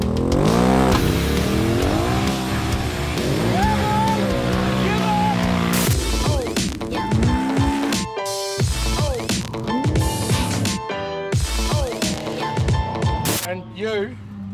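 Trophy truck engine roaring and revving at an off-road race at St George, loud and close with shifting pitch, mixed with tire noise and sharp bursts as the truck drives hard, with voices talking over it.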